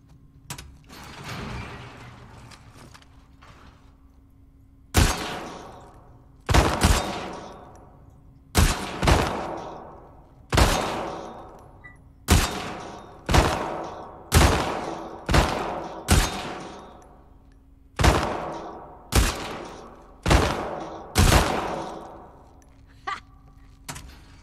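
Gunfire at a shooting range in The Last of Us Part II, a dozen loud single shots spaced a second or two apart, each with a ringing decay, over a quiet hum.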